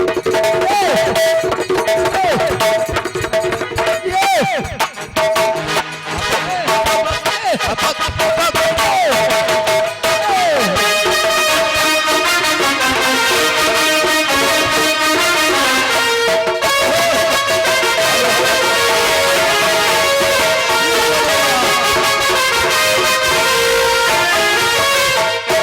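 Dhol drum beats drive a loud, dense folk bhajan performance, mixed with singing, harmonium-like tones and crowd noise throughout.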